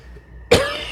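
A single sharp, loud cough bursts out after a quiet moment, from a man whose smoke went down the wrong way, trailing off into a rough, raspy exhale.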